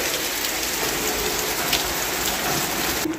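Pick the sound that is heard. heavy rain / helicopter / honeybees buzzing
heavy rain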